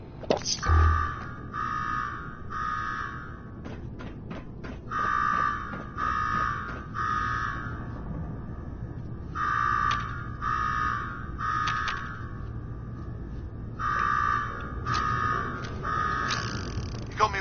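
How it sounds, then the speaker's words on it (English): An alarm blares inside the video game Fallout 4, sounding in repeated bursts of harsh, buzzing electronic beeps in groups with short pauses between them, loud and steady over faint background noise. "Now go shut off that damn alarm."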